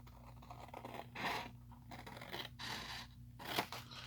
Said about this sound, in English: I'm just choosing to use my scissors.